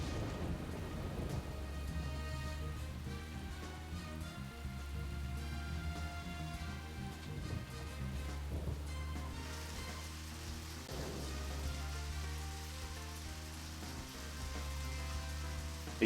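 Rain in the video game Deadly Premonition, a faint steady patter with low rumbling underneath and game music tones layered over it, continuous with no voices.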